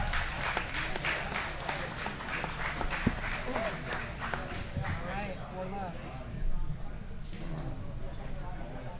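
An audience claps and cheers after a grappling match at an amateur face-off event. The applause is sustained and fairly loud, with a host's voice talking over it.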